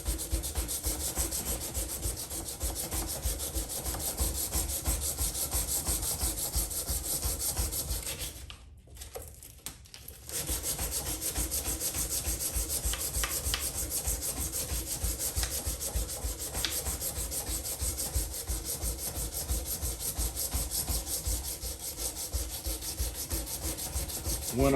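A blade's bevels are ground on a belt grinder, making a continuous close rasping hiss. It stops briefly partway through, then resumes just as steadily.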